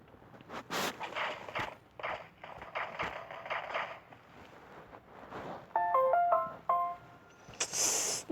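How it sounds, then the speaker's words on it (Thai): Partway through Minecraft gameplay, a short melodic notification chime of a few bright tones rings out clearly over soft game footsteps and clicks. "แจ้งเตือนมาทำไมวะ"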